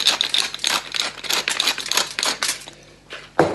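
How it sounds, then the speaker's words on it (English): A black pepper grinder is twisted at the top in a quick series of gritty, crunching turns, close up, pausing briefly before one last grind. "I just like twisting the top here, making that noise"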